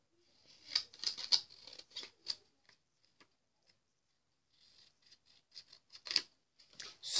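Scissors snip paper for a handmade paper wallet, giving a few quiet, close, crisp cuts in two short bursts separated by a pause.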